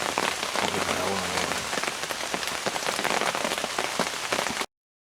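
Heavy rain pounds on a hunting blind during Pennsylvania archery season, a loud, close, crackling patter with dense drop hits that continues unbroken, then cuts off abruptly near the end.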